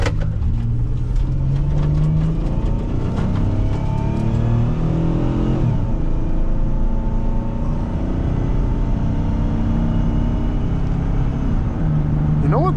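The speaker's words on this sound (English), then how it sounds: "You know what this motor still sings?" A 2002 Nissan Quest GLE minivan's engine accelerating during a test drive, a continuous mid-pitched drone that rises and shifts with speed, heard from inside the cabin along with road noise.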